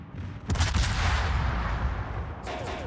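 Ship secondary guns fire in World of Warships, a loud, close burst of overlapping booms that rings out into a sustained roar and then fades.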